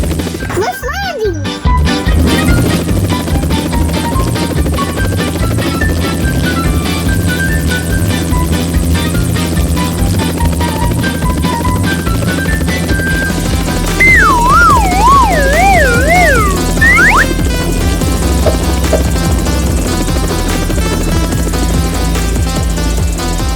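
Children's cartoon helicopter flying in and setting down, a steady droning rotor hum running throughout at fairly loud level, with a brief clatter near the start and a wobbling tone later.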